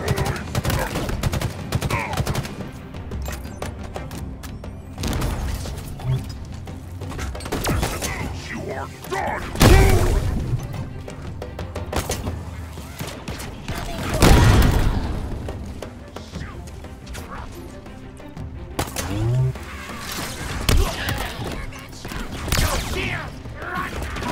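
Halo Infinite combat gunfire: continuous volleys of shots with heavier thumping impacts and mechanical clatter, loud and close, while voices talk intermittently over the fighting.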